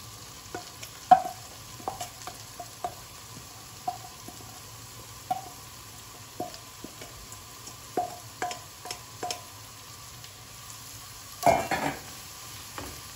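Carrots and zucchini with onion fry gently in a pan, a soft steady sizzle broken by scattered clinks and scrapes of a utensil stirring, close and fairly quiet with no talking.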